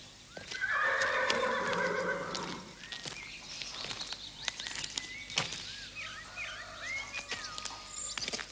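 A horse gives a loud, close whinny followed by quieter snorts and a second shorter neigh, with faint hoof clops and light background activity around it.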